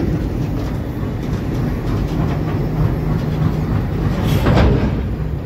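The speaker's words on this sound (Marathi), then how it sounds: "सध्या ट्रेनच्या आतमध्ये आहोत," Passenger train running toward Beed, heard from inside the carriage: a steady, loud rumble of wheels and car body fills the whole stretch, with a brief swell of rushing noise near the end and no talk.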